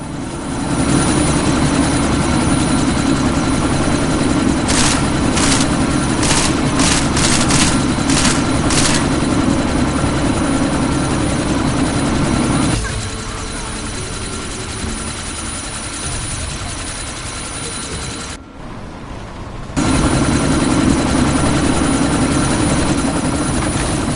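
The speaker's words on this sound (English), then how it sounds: "That chopper's about to take off!" A helicopter in Deus Ex about to take off, a loud constant rotor and engine roar with a burst of rapid gunfire, then a quieter stretch with a brief gap before the roar returns at full strength.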